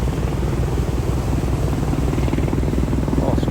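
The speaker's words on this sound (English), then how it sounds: "A black hawk, I believe. Not really a helicopter guy." A Black Hawk helicopter passes over a yacht near San Diego, its rotor giving a loud, steady low thumping drone that fills the whole stretch without pause.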